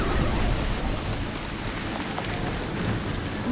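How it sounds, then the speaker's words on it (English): A chain lightning spell going off in Neverwinter Nights 2, a dense, continuous crackling roar like heavy rain and rumbling thunder, loud and steady throughout with no clear gaps. "They're casting, I believe, chain lightning."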